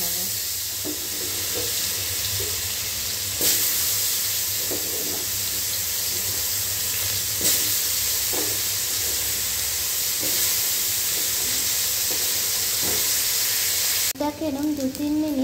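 Potatoes coated in salt and turmeric fry in hot oil, a steady close sizzle and hiss running throughout with occasional stirring clicks and a brief voice near the end.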